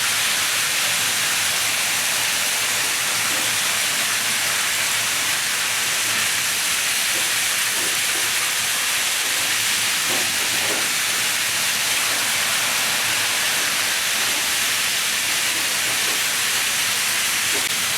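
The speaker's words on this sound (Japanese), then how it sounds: "列車を走らせてみました。" Continuous broadband rumble and hiss of ten model trains running on track, steady throughout with faint clicking rail noises, no voices.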